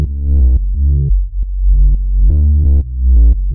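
Deep drum and bass bass line, a four-bar pattern of heavy sustained low notes with rich upper harmonics, played alone, loud and upfront with short gaps between phrases.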